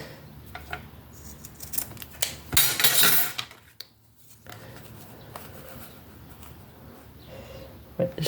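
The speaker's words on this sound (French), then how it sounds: "Je vais couper là, mais ça devrait être bon. Pour mon grand ciseau." Large scissors cutting paper for a scrapbooking project, a few crisp snips and a louder crunchy cut mid-way, with soft handling rustles and a quiet room around them.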